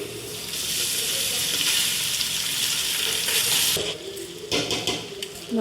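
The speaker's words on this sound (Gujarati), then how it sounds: "હા ડુંગળી ને મરચાનો વઘાર થાય છે." Onion and chili tempering sizzles hard in ghee mixed with a little oil, a loud steady frying hiss that fills the first few seconds, then breaks into choppier bursts as the pan is disturbed.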